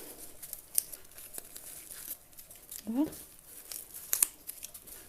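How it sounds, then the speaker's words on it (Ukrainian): Short rips and crinkles of thin cardboard tags being torn off tea bags, a few quick tears spaced apart, close by, with a voice briefly audible. "Я обриваю оці картонки."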